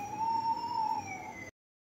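A toy police car siren wails close by in a steady rising and falling electronic tone, then cuts off abruptly after about a second and a half.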